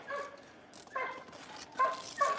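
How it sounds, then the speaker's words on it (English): A few dogs bark and yip in short bursts from some distance, with whimpering sounds between the barks in an otherwise quiet outdoor setting. "I don't know what these dogs are barking at"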